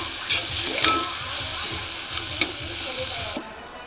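Spices with turmeric fry in an oily pan, a steady close sizzle broken by a spoon scraping and stirring in repeated strokes.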